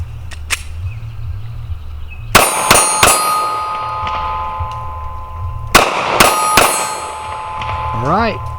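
A Glock 43 handgun firing at steel targets, with two bursts of sharp ringing metal clangs and shots in quick succession, loud and close, each hit leaving a bright lingering ring.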